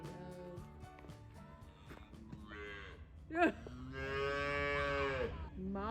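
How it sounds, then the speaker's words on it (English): A Brahma calf moos loudly and close by, one long drawn-out bellow rising after softer grunts and rustling, with a brief sharp knock partway through. "we brought home a Brahma calf we not so affectionately named Chupacabra"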